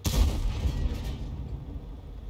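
Tank cannon fire in the World of Tanks video game: a deep, heavy boom right at the start, then a rumbling tail that slowly fades.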